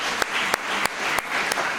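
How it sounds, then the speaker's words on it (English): Steady applause from a crowd, a dense wash of clapping that holds throughout, with a few louder distinct claps standing out at regular intervals. "I think that deserves a round of applause."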